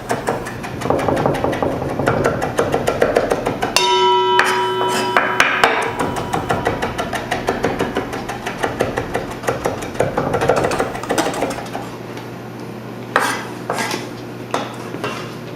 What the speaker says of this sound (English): with my knife, we're just basically going to chop everything up nice and small